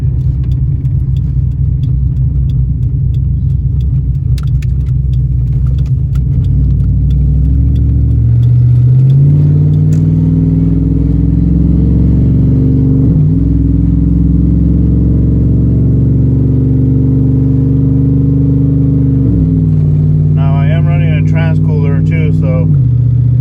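A car with a swapped 6L80 automatic transmission runs steadily while shifting through its gears, the engine tone stepping up and dropping at each change, loud and close throughout.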